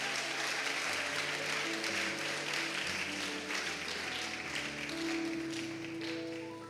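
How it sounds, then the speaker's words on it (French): Sustained audience applause fills a youth camp gathering in France, dense and steady throughout, with a faint tonal musical backing beneath the clapping. "Est-ce qu'on peut applaudir?"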